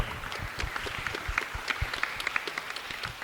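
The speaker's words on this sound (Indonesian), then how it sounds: "Beri tepuk tangan dong" A theatre audience at a festival performance claps in scattered, uneven bursts, fairly quiet and somewhat distant, with no talk over it.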